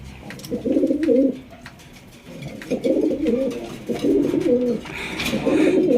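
Pigeons at a pigeon farm coo in repeated low, throaty bursts, several birds close by, with brief pauses between calls and light background noise.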